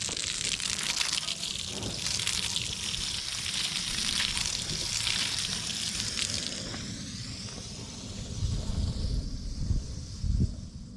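Water sprays and rinses off a car tire coated with tire shine, a close, loud hissing wash that shifts and thins partway through, ending with some splashing and thumps.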